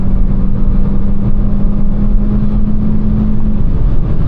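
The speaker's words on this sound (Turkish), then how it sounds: "Ama cidden güzel devir çeviriyor." A Volkswagen CC Sportline with a 1.4 TSI 160 hp engine pulls under acceleration, a loud steady mid-pitched engine drone with a sustained tone and constant rumble from inside the car, no talking.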